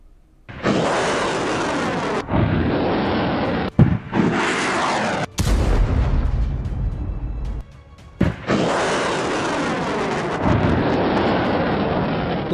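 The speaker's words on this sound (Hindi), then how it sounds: "तोपें गरजी, मिसाइलों की बौछार हुई, ड्रोन से भीषण हमला हुआ और यूक्रेन दहल गया" Artillery fire and explosions from war footage in Ukraine's Donetsk region, a series of loud, sustained roaring blasts with deep rumbling low end, several long bursts separated by brief gaps.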